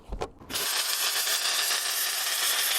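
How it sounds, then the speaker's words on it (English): MIG welding with a PrimeWeld MTS 200 welder, a steady loud crackling buzz of the arc starting abruptly after brief clicks and continuing evenly, close up. "We're gonna MIG weld the other side of it and see how this works."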